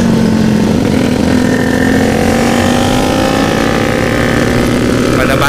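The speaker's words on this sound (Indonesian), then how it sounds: "ini emang knalpotnya" Yamaha R15 sport motorcycle fitted with a loud aftermarket racing exhaust, riding with a club group on a tour, giving a loud continuous engine drone close by.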